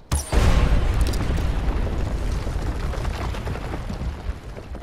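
A barrel blows up after being shot in the video game Far Cry 4, setting off one sudden loud boom followed by a long, rumbling, crackling blast that slowly fades, with no voices over it.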